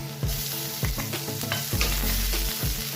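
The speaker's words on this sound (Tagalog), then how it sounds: "i-sustain na natin ang chicken. So ilagay na natin ang ginger and garlic." Chicken sautés with ginger and garlic in a pan, a steady close sizzle broken by repeated scraping stirs of a utensil, with no voices.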